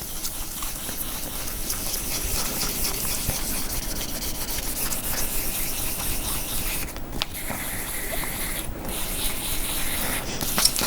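Steady wet-dry sanding of painted wood on a DIY guitar kit body, a continuous close rubbing and scraping texture that runs unbroken, with a few brief pauses in the strokes and no talking.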